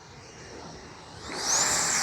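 An FMS Integral 80mm RC jet makes a touch and go, its ducted fan a steady distant rush that swells louder and rises in pitch as the plane passes close near the end.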